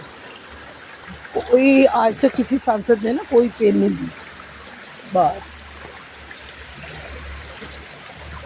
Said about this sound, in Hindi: पानी की स्लाइडिंग इतनी ज़्यादा है कि बंदा यूं ही चो में पहुँच जाएगा बहकर